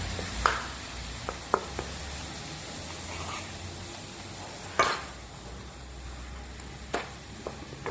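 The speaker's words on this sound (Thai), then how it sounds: "ใช้ไฟอ่อนๆผัดนะคะ กะทิเริ่ม เริ่มแตกมัน แม่พินก็จะใส่ แกงลงเลยค่ะ" Panang curry paste stir-fried in coconut milk over low heat gives a soft, continuous sizzle, broken by occasional clinks of a utensil against the pan.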